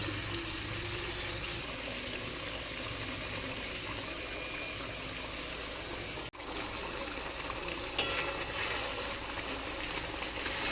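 Chitala fish muitha dumplings simmering in gravy with sugar and slit green chillies, a steady bubbling wash that holds evenly throughout, with a brief dropout near the middle and a small clatter toward the end.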